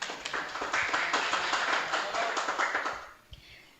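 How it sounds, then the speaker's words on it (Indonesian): An audience at a campus workshop opening bursts into clapping, a fairly close flurry of hands that builds, holds for a few seconds, then quickly dies away to near quiet. "Boleh tepuk tangannya dulu dong"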